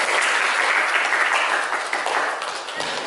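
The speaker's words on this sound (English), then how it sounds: "Give applause to all of us." Applause from a class group, dense continuous clapping of many hands at close range, steady and loud before tapering slightly near the end.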